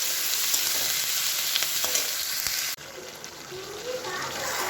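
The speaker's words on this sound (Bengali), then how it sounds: "এই যে বিরিয়ানির জন্য চিকেনগুলো একটু কষে নিচ্ছি।" Chicken leg pieces fry for biryani in a hot pan, a loud dense sizzle that cuts out abruptly and resumes more quietly.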